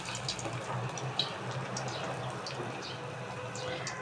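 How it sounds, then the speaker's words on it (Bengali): Thin lentil fritters (bora) fry in hot oil with a steady, close sizzle and crackle, an even hiss that does not let up through the short stretch; no one talks. "তো বড়াগুলো আমি গরম তেলে দিয়ে দিলাম"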